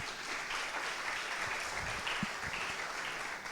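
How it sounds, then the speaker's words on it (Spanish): Applause from a church audience fills the room, a dense, moderately quiet patter of many hands clapping continuously throughout. "Dense un aplauso ustedes mismos."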